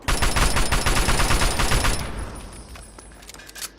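Rapid automatic gunfire from the Fallout 3 video game, a dense rattling burst that is loud for about two seconds, then fades into a quieter tail with a faint late pop.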